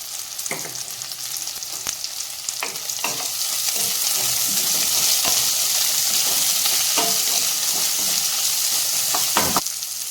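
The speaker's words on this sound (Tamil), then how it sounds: "வெங்காயம் இப்போ நல்லா வதங்கிடுச்சு" Small onions with rock salt sizzle steadily in a hot pan for Tamil tomato kulambu, with the sharp scrape and clack of a spoon stirring them every second or two.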